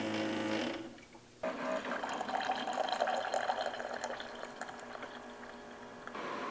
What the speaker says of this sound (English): that's the first cup of hot water and vinegar going through it